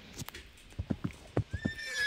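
Horse neighing and galloping in a Roblox game, a run of quick hoof clip-clops followed by a rising whinny, loud and close.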